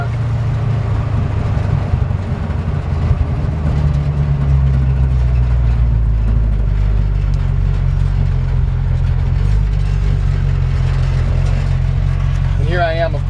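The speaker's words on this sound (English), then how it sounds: "So I got a great sounding little exhaust." A 1932 Ford rat rod truck drives along, its engine and exhaust producing a loud, steady low rumble that holds throughout, with a faint squeal near the end.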